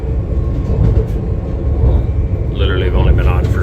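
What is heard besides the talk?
Swiss train riding from Tbilisi to Batumi, Georgia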